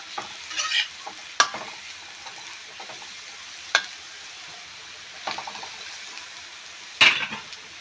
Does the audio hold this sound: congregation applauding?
no